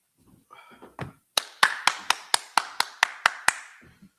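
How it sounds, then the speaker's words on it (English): A group claps in unison at a hand-clapping class session, ten sharp, evenly spaced claps after a few scattered early ones, close and loud, ending with one soft clap. "All right, clap it up."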